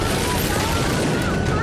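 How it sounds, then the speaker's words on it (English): A burning passenger plane erupts in a series of explosions as fire reaches its fuel tank, a dense, continuous roar of blasts and crackling bursts filling the scene loudly throughout. "A series of explosions rocks the plane as the fire reaches the fuel tank."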